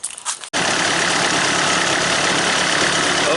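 An excavator's engine is started and settles into a loud, steady diesel idle with a rough, knocking rumble that holds without change, close to the microphone.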